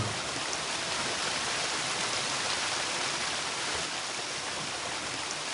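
Constant rushing water roars without a break, a steady broadband splash like a waterfall in the video game Gothic II, loud and even.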